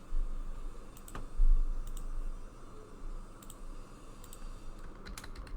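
Computer keyboard typing a password, a short run of soft, close keystroke clicks over faint background hum, quiet and without talk.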